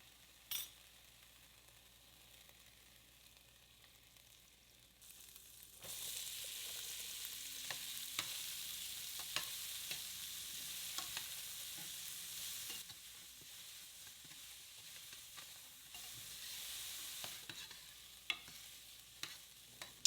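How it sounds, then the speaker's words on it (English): Celery and onion hit hot bacon fat in a pan, giving a quiet start that jumps into a steady, bright sizzle, broken by occasional stirring clicks and scrapes, dipping briefly before resuming. "add a little bit of our bacon fat and then throw in our celery and onion and cook it"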